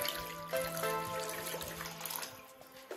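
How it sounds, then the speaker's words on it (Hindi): Water poured into a pan on a gas stove in a home kitchen, used to rinse out leftover ghee; a steady running, splashing stream continues throughout, fairly close and unbroken. "ये सारा पानी हम इसमें डाल देंगे"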